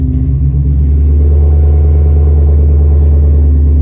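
Rebuilt 1200-horsepower 2020 Shelby GT500 idling loud and close, a deep, heavy rumbling engine note that holds steady and throbs with slight revs throughout.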